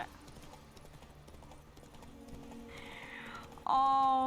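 Hooves of Roach, the horse in The Witcher 3: Wild Hunt, clip-clop at a steady pace amid game ambience, ending in a sudden louder burst of sound.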